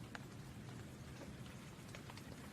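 Steady rain patters down, close and even, with scattered drops ticking through a soft constant hiss; no voices.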